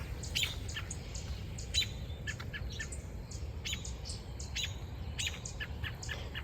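Many small birds chirp and tweet in a home hosta garden around 7:30 in the morning, with a steady stream of quick, fairly faint calls over a soft, constant outdoor hum and no talking.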